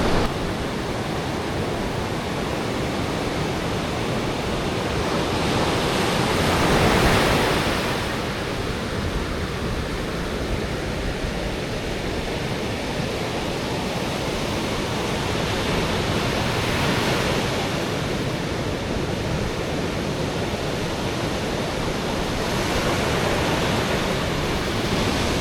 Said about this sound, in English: Sounds of the sea